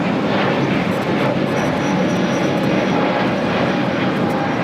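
A Viva Aerobus Airbus A321neo takes off from LAX toward Monterrey, its engines a loud, close, unbroken roar filling the whole short stretch.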